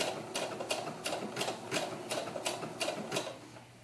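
A sewing machine stitches lycra racing stripes onto doll clothes, its needle thumping in an even, rapid rhythm of repeated pulses that runs continuously and close.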